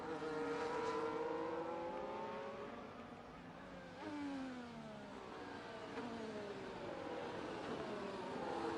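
Race cars in a racing video game whine past as they overtake, rising and falling engine tones layered over a steady circuit roar, a little faint.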